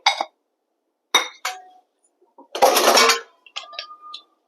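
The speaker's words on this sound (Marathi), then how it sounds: "कुकर लावून घेऊ आपण आता" Short metallic clinks and clatters of a pressure cooker and its lid being handled for cooking dal (varan) in a home kitchen, several separate knocks with a louder scraping rattle in the middle, close and isolated.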